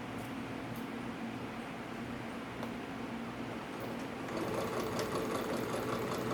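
Sewing machine stitching gathered fabric while easing it, a steady dense mechanical whir that runs throughout and grows slightly louder and more rapid near the end, with no talk.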